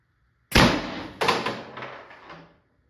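Two sharp bursts from a Tippmann TiPX paintball marker firing on 28g CO2 through a stock spool valve, each a loud close pop followed by a hissing gas release that tails off over a couple of seconds.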